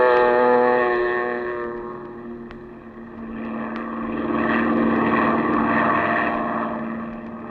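Seaplane engine droning steadily as the aircraft skims across a bay toward the Gulf, a sustained propeller hum with harmonic tones that swells and fades slightly, with no voices.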